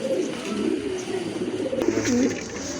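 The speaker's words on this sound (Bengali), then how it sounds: "সুন্দর এক জোড়া কবুতর অনেক বড় সাইজের কবুতর" Low, rolling coos from large pigeons close by, continuous and layered, with a brief click partway through.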